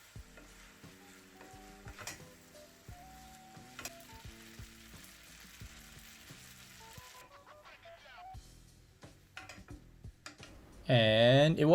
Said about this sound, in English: After the spaghetti was cooked, it was then transferred to the pan and stirred together.